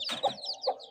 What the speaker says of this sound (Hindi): ये जावा मुर्गा ना जो है मेरा, ये रोटी बहुत शौक से खाता है।